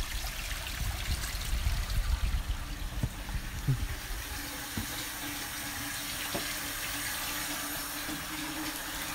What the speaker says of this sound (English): Yeah, so it uses a lot of water. All this is coming from the mountain.